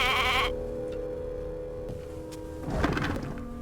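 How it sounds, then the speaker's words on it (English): A sheep in the video game Divinity II bleats loudly in a short wavering cry, followed by a quieter stretch and a second rougher bleat near the end. "Shaking her fluffy coat, the sheep eyes you balefully"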